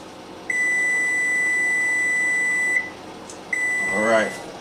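A kitchen timer beeps while cast iron macaroni and cheese finishes cooking: two long, steady electronic tones separated by a short gap, loud and close, with a voice starting briefly at the end.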